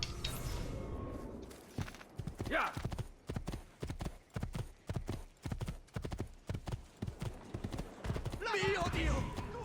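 Rhythmic clip-clop of horse hooves trotting steadily in the video game Assassin's Creed II, close and fairly loud, with a brief whinny partway through and some background game sounds.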